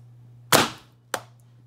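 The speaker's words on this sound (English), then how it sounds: "You do hear sound of impact though." A Gauss rifle projectile strikes a pork rib target, giving two sharp, close impact cracks about half a second apart, the first louder than the second, against near silence and a faint steady hum.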